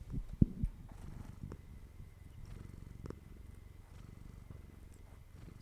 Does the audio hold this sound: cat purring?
yes